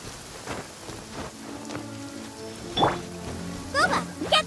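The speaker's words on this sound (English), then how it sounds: "Don't stay out in the rain for too long." Rain falls steadily in the video game Genshin Impact, a soft continuous patter under game music. Short chirpy game sounds and effects pop up near the end.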